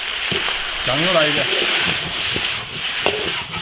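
Loaches stir-fried in an iron wok give a steady sizzling hiss with scraping of the spatula, while someone speaks briefly over the cooking.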